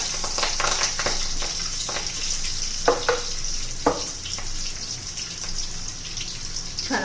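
Mustard seeds, cumin and curry leaves crackle in hot oil in a kadai, a dense continuous sizzle dotted with sharp pops and spits, close and steady, with no one talking.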